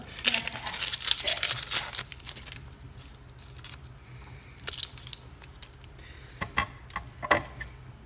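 Papery onion skin being peeled off by hand for a veggie frittata, close crinkling and crackling, busiest early then sparse sharp ticks and rustles against quiet.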